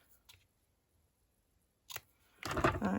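Scissors snip the end off a light-coloured retired ribbon: a faint early tick, then a crisp close cut followed by a louder snipping crunch, in a quiet room.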